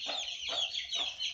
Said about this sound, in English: It's the chicken I'm trying to protect its chick.